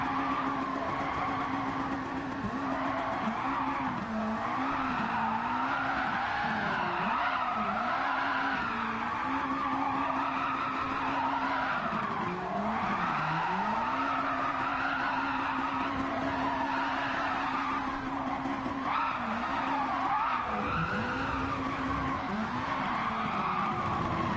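A Lamborghini slides around a track in the racing game Gran Turismo 7, its tires squealing in a long, continuous skid over a droning engine whose pitch wavers up and down.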